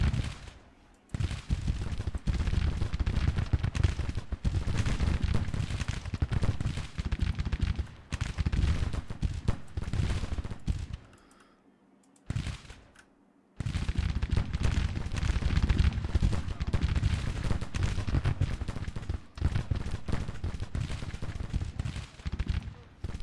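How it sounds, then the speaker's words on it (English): Dense, rolling artillery and gunfire from a Civil War battle in the video game Grand Tactician, with booming volleys in near-continuous bursts and a short lull in the middle. "Somewhere around here there's artillery."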